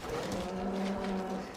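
A giant bull, a heavy beast weighing about 1,370 kg, lets out one long, drawn-out moo that holds steady for over a second, close by and alone with no speech.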